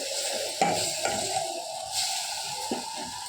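Food sautéing in oil in a pan over a low simmer flame, a steady soft sizzle broken by several crisp stirring scrapes and clinks of a spoon, close up with no voices.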